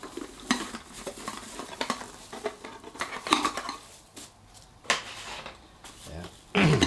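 Camping cookware for motorcycle touring, including pots, a kettle and utensils, is handled close up, giving scattered metallic clinks, scrapes and knocks at irregular intervals, with a louder clatter at the end.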